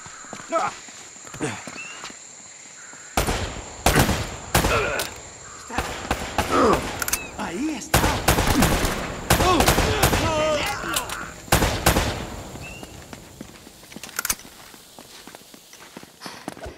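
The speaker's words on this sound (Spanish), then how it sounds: "También te están disparando a ti, ¿sabes?" Gunfire in Uncharted: Drake's Fortune crackles in sharp, scattered shots and rapid bursts, with footsteps and voices talking in between.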